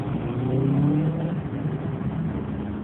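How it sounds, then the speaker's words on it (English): Rush hour traffic flows past, cars passing with a steady engine rumble and a busy road wash, fairly loud and close, with no voices. "Rush hour traffic. Gotta love it."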